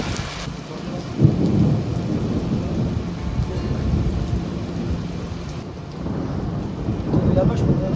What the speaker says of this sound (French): Oui, mais au moins, on a les coups de tonnerre.